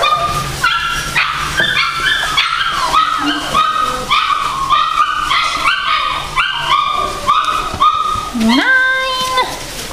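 Six-week-old puppies bark, yip and whimper in rapid, overlapping high-pitched bursts close by, with a woman calling to them in between.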